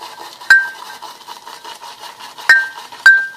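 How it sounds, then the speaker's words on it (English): Thick handle of a Simpson Chubby 2 synthetic shaving brush knocks against the sides of a moist lather bowl, three sharp ringing taps spaced apart over quiet swirling, close and clear. "as you can hear, I'm hitting the sides of the bowl"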